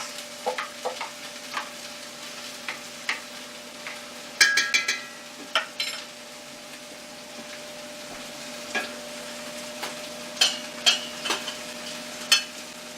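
Onions, carrot, celery and leeks sizzle in hot oil for lentil soup, a faint steady hiss broken by sharp spoon taps and scrapes against the pot at irregular intervals.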